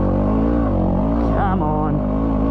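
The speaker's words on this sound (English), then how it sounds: "my bike is actually full bogging down" A motorbike engine labouring and bogging down in soft desert sand, loud and close, a continuous low strained drone with pitch dipping and wavering, and a voice briefly heard over it.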